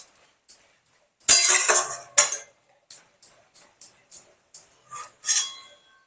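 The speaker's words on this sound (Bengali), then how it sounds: "এরপর সবগুলোকে একসঙ্গে ভালো করে নাড়াচাড়া করে নেব।" A metal utensil stirs pumpkin greens with turmeric and salt in a pan, making a quick run of short scraping clinks and taps, one longer scrape first and then a rhythmic series of brief strokes, close and clear.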